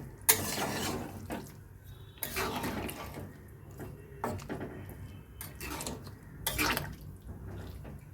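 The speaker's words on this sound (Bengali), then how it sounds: "গরম জলটা দিলাম।" Hot water is poured into a pan of shrimp curry with green jackfruit, giving intermittent splashing and bubbling bursts with some utensil clatter at a moderate level, no talking.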